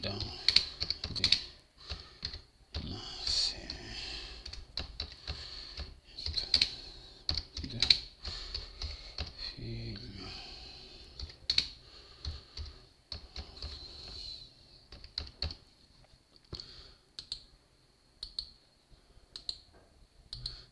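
Fingers tap a computer keyboard in quick irregular bursts of crisp clicks, close by, with pauses between runs and someone speaking intermittently over the typing.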